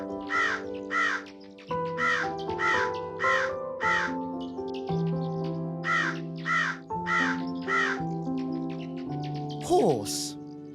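A raven caws in repeated harsh, rhythmic croaks, loud and close, several calls in quick succession with a brief pause midway, ending in a sharper burst.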